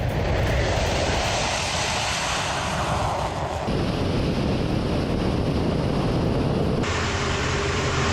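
Russian air force military aircraft, a loud sustained roar of jet engines with rushing wind, steady and close throughout with abrupt shifts in tone.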